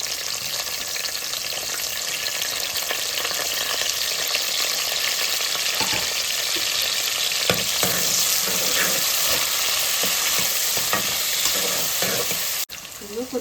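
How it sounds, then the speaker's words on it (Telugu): A single onion frying in hot oil spiced with cinnamon, cloves, cardamom, shahjeera and star anise for mutton biryani: a steady, close, continuous sizzle with occasional stirring scrapes, ending in a brief break. "వేడెక్కింది ఆయిల్. ఉల్లిపాయలు, ఒకే ఒక ఉల్లిపాయ అండి ఇది."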